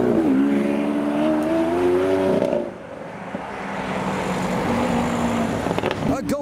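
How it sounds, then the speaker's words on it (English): A Lamborghini Aventador S pulls out of a car show onto a roundabout, its engine revving loudly with rising harmonic sweeps in the first seconds, then settling into a steady drone amid traffic and crowd noise. "Now, there is an Aventador S pulling out."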